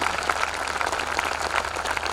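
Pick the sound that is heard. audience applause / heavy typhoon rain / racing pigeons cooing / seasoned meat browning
audience applause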